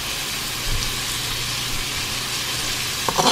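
Chicken pieces sizzle steadily in a hot pan, a constant close crackle and hiss that holds through, with a brief clatter of stirring near the end.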